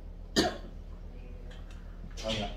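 Two short coughs, one near the start and another near the end, with a quiet pause between them.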